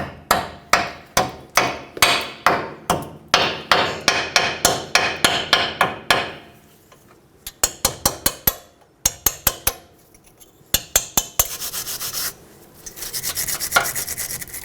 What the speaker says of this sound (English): I'm going to use a hammer and a chisel if I need it.